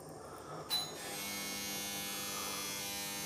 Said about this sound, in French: Alors, j'arrête ta lampe à souder